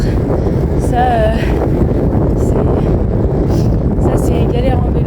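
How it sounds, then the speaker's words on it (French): Strong wind buffets the microphone while cycling outdoors, a constant loud rumbling roar that fills the whole clip, with faint tonal traces of other sounds above it. "Il y a toujours beaucoup de vent, par contre."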